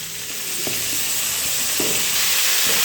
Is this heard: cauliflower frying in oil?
yes